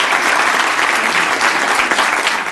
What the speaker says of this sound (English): The applause was heartfelt.